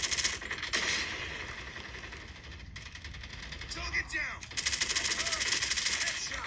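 Automatic gunfire in the Call of Duty Mobile video game, dense rapid bursts that run almost continuously with a short lull in the middle, loud and close, with a voice heard over part of it.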